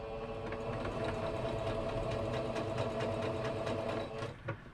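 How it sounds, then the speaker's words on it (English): A sewing machine runs steadily, stitching plate mat fabric pieces together with a continuous, close mechanical whir that slows and stops near the end. "So we're going to sew these 2 together."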